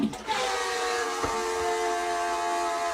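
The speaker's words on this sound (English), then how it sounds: "Somebody tell me why my toilet sounds like this." A household toilet gives off a strange steady whine with a layered, buzzing hum, continuous and fairly faint, with a couple of small knocks near the start.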